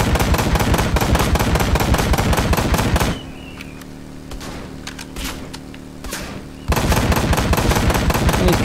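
Rapid machine-gun bursts from a motorcycle sidecar in the game Ride to Hell: Retribution, loud and dense, then a quieter lull of a few seconds before the firing resumes at full intensity.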